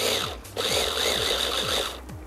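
A kitchen food processor runs with a steady, close motor whine and a regular pulsing chug that repeats about every half second. The whine drops briefly once and then resumes.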